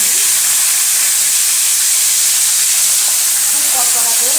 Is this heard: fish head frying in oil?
yes